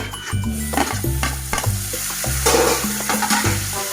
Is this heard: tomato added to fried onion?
yes